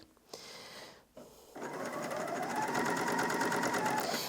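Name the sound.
Bernina L460 overlocker sewing fabric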